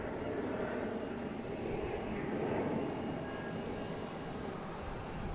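A Lufthansa airliner at Boston Logan airport gives off a steady, moderately distant engine roar with broadband rumble that holds evenly throughout, with no voices.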